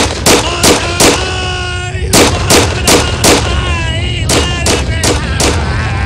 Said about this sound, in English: And then I am going to shoot the dirty green monster.